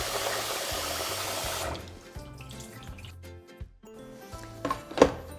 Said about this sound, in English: Next, we'll give this a quick wash and rinse.